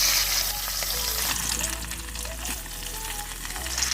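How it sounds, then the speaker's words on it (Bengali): Marinated rohu fish pieces, rubbed with salt and chilli powder, frying in hot oil, with a steady close sizzle that holds throughout and no voices. "এবার ম্যারিনেট করা মাছগুলোকে একে একে তেলে ভেজে নেব।"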